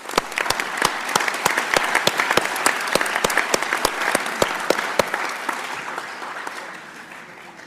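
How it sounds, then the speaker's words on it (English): Audience applause at a school board meeting, honoring children: dense, steady clapping from a room of people with sharp individual claps standing out, holding strong then tapering off slightly toward the end. "Let's give these kids a round of applause,"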